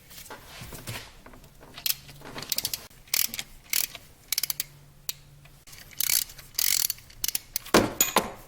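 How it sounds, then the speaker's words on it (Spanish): A ratchet wrench takes out the 13 mm alternator bolts on a Chevrolet Blazer or S10. The clicking comes in quick, close bursts separated by short pauses. "ahora vamos a quitar los tornillos, en este caso ya nomás quedan 2. Y los tornillos van a ser de 13 milímetros."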